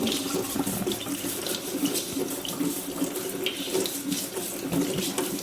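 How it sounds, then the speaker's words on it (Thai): Potatoes being washed under a running kitchen tap, a steady close splashing stream of water with small bursts as the sprouting potatoes are rubbed and turned, no talking. "ทำความสะอาดมันฝรั่ง อ๋อต้องอาบน้ำให้มันฝรั่ง"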